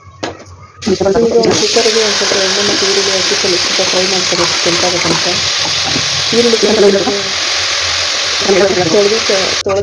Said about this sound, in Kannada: ಚಿಕನ್ ಕೂಡ ಇಲ್ಲಿ ಒಂದು ಸೈಡಿಗೆ ಫ್ರೈ ಆಗ್ತಾಯಿದೆ